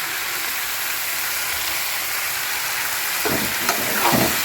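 Garlic and ginger paste frying with chicken in a pan for Bengali chicken posto, a steady close sizzle with some scraping stirs near the end.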